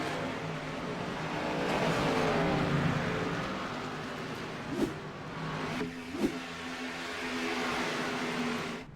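Xfinity stock cars race around Atlanta's track, engines droning at a moderate distance and swelling and fading as the field passes, with a couple of sharp bumps midway.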